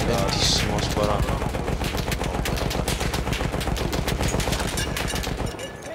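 Rapid automatic gunfire in the video game Battlefield 1, loud bursts of closely spaced shots in a steady staccato rhythm lasting nearly the whole stretch before cutting off at the end.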